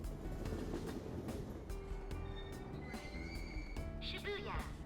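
Train in the video game Persona 5 Royal, a steady rolling rumble with a chime and an announcement tone near the end, under continuous talk.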